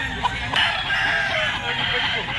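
A street-breed rooster crows at a pet market amid crowd murmur, one loud nearby call that rises and holds for about two seconds over a busy background.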